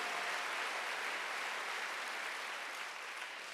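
A Sunday worship congregation applauds in a large church, a broad, even wash of clapping that holds steady and tapers slightly near the end.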